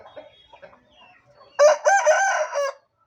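An Aseel rooster crows loudly and close by, one long harsh cock-a-doodle-doo lasting about a second after quieter clucking and farmyard sounds.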